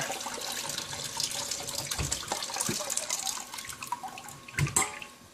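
Water trickles and drips from a gold-panning sluice box being shut down outdoors, a steady close splashing wash with a few louder drops near the end.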